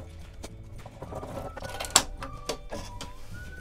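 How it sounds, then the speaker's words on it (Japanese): A sewing machine stitches a burlap coffee-sack snowboard bag, a quiet run of rapid mechanical needle clatter with a sharp click near the middle and faint whirring, with no speech. "この紐を通す部分のところ、ここをこの字で縫っていきます。"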